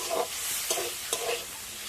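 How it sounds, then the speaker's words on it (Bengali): Potato and cauliflower filling is stirred and fried in a pan, with a soft steady sizzle broken by three quick scraping strokes of the spoon at close range. "পুরটাকে আমি বেশ কিছুক্ষণ সময় ধরে নাড়াচাড়া করে ভালো মতো করে একটু ভেজে নিয়েছি"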